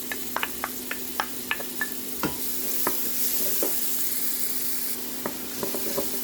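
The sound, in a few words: garlic and onion frying in pan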